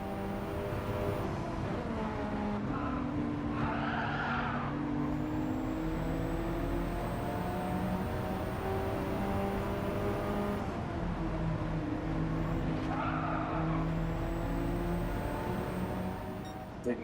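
Race cars lapping Brands Hatch as one overtakes a Renault, engines droning and revving with rising and falling pitch, loud and close throughout, with gear-change surges and no talk.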